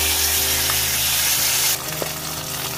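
Spice paste hits hot oil already holding bay leaf, cinnamon, cardamom and cloves, giving a loud, steady, close-up sizzle that drops slightly as the paste goes in, with a faint clink.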